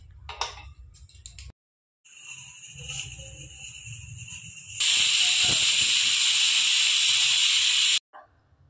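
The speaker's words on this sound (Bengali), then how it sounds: "আমি প্রেসার কুকারটা গ্যাসের মধ্যে বসিয়ে দেবো" A pressure cooker of mutton curry on a gas stove hisses steadily, then breaks into a loud, sustained high whistle of steam for about three seconds before cutting off abruptly.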